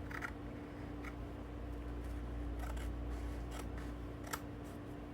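Scissors snip paper while trimming a side edge for a planner collage, a few short, crisp cuts spread across a quiet background with a steady low hum and no talking.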